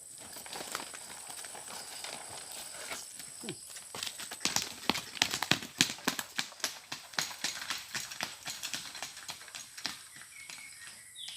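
Horse hooves clip-clop in a steady, quickening rhythm, close by and fairly loud, as the horse hauls wood on a farm, with faint birdsong in the background.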